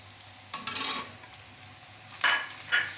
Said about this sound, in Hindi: टमाटर डाल के भी इसे 2 से 5 मिनट तक भूनेंगे